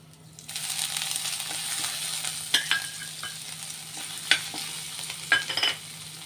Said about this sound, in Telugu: ఇప్పుడు అల్లం పచ్చిమిర్చి కూడా వేసేద్దాం.